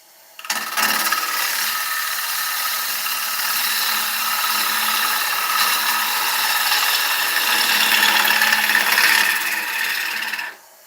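A half-inch gouge cuts into a rimmed dieback ash bowl spinning on a lathe, a continuous rough, hissing scrape that runs unbroken for about ten seconds, then stops abruptly.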